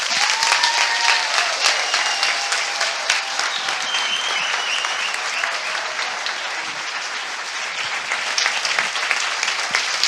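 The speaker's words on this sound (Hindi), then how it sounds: "यीशु के लिए एक ताली बजाएंगे" An audience at a Christian worship gathering in Mumbai claps for Jesus, loud and continuous, with dense applause and scattered cheers and voices throughout.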